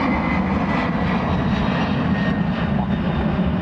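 A jet airliner climbs away after takeoff at Dublin Airport, a steady broadband engine roar that holds at constant loudness throughout, with no talk.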